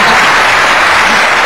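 A short burst of loud, dense applause from a group, close and continuous for its brief length.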